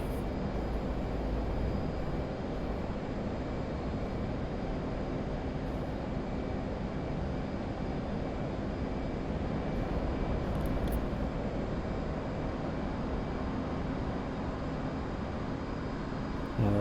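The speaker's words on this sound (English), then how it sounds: "A couple A-10s flying up and above." A-10 jets fly overhead in the DCS World flight simulator, alongside an F/A-18C: a steady, loud, broadband engine roar with a faint high whine holds unbroken for the whole stretch, with no talk.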